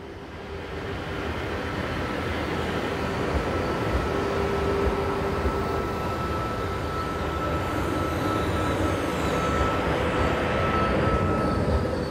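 A European passenger train passing on a railway line, a steady loud rumble of wheels and carriages lasting throughout, with faint squealing tones, no voices.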